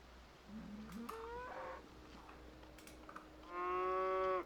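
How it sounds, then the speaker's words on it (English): A cow moos angrily in a farming video game, a few short low grunting calls followed by a loud, drawn-out bellow at the end, alone with no talking. "That sounds like an angry cow."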